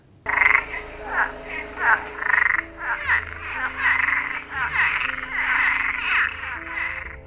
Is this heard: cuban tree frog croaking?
yes